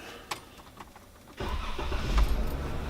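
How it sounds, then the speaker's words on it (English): A Jeep engine cranks and catches at about 1.4 seconds, then settles into a steady low running rumble that stays loud and close, with faint clicks before the start. "Start the engine."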